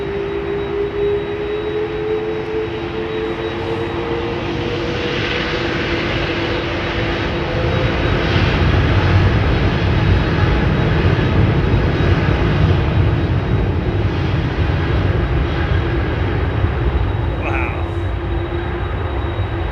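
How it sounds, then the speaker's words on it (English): Jet aircraft engines whine steadily at London Heathrow Airport, a loud continuous roar with a high sustained tone that swells midway as a plane approaches, with someone talking over it. "Listen to those engines whining away."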